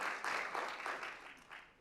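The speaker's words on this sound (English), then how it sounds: "Let's give her another round of applause." Audience applause at a literary awards ceremony, a steady wash of many hands clapping that swells in waves and slowly fades over a couple of seconds, heard from within the hall.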